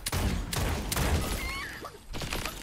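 Rapid bursts of video-game gunfire in a duo trios match, several loud broadband volleys crackling over a busy, continuous in-game background.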